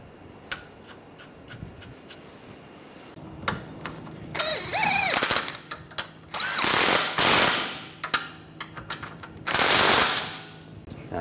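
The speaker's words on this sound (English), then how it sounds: "Tighten those down." Stabilizer bar bolts on a 2009–2013 BMW 328i xDrive 3.0L inline-six are run down with a power tool during a water pump job, loud rattling bursts of rapid impacts close up, the longest near the end.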